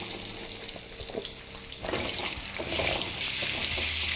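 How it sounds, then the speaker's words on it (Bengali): Potatoes fry in leftover oil and ghee in a wok with a continuous close sizzle and bubbling that rises slightly midway and carries on steadily to the end. "এবার তেলে বাকি কিছু ভাজার আগে আমি এখানে আলুগুলোকে ভেজে নিচ্ছি।"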